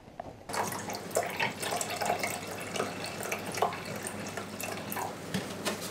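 Hydrogen peroxide pours into a mixture for making copper acetate, a steady close liquid splash and trickle that starts abruptly and continues unbroken, with no voices.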